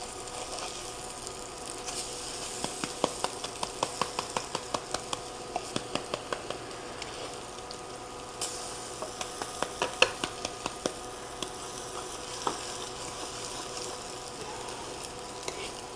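Yellow squash fritters containing egg fry in hot oil with a steady sizzle, while a utensil pushes them around, giving quick, repeated scraping clicks throughout.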